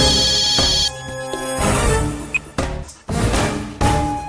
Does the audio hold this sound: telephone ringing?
yes